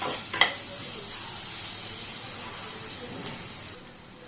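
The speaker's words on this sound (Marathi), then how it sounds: "दोन हिरव्या मिरच्या टेस्ट चांगली येते छान परतून घेऊया" Green chillies sauté in a hot pan for vegetable pulao, a steady broadband sizzle and hiss with a brief clatter near the start, holding even throughout and easing slightly at the end.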